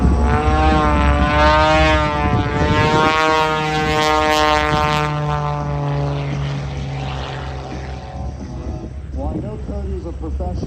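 Propeller airplanes buzz low over the runway at the Quad City airshow, a loud droning engine note rising and falling in pitch as the planes pass close by.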